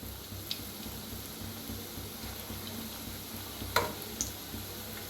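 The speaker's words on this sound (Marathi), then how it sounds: "तळायला लागलेले आहेत. तर खालीवर असं करत तळून घ्यायचं म्हणजे एकसारखं तळलं जाते." Bhaji fritters frying in hot oil, a low steady sizzle throughout with a few faint pops and crackles, no talking.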